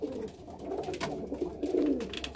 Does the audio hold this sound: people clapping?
no